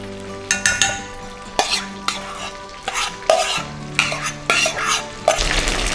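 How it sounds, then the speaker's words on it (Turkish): A sauce mixture of Worcestershire sauce, hot sauce and mustard being stirred in a bowl, with repeated scraping and clinking strokes of a utensil in an uneven rhythm, close and fairly loud, with no talking. "Worcester sosumuz var, acı sosumuz var, hardalımız var burada. Bunları bir karıştırdık."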